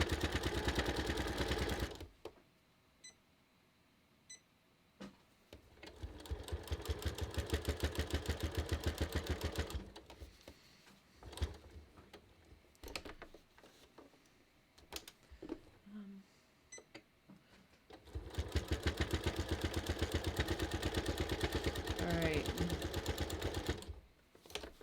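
Sewing machine stitching a red heart banner for a front door, running in three long steady bursts of rapid mechanical chatter separated by quiet pauses, close and fairly loud.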